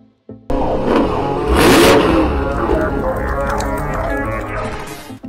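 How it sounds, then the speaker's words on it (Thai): A BMW M8 sports car engine roars and revs hard, rising to a loud peak early then holding a strong, throaty drone that gradually eases, close and dominant with no voices. "มีเสียงคำรามของเครื่องยนต์เจ้า M8"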